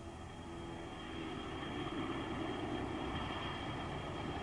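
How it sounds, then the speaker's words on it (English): Steady, broad roar of a MiG-21 UTI trainer's Tumansky jet engine, continuous and even for several seconds with no voices. "Each model of the UTI trainer has the same Tumansky jet engine as its"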